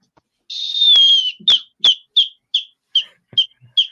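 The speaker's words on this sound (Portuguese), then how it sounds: "o árbitro, com o apito que a Manu trouxe da festa da Joana, encerra a partida" A referee's whistle blown in a long sustained blast, then a quick series of short, evenly spaced chirping toots, loud and close, with no talking.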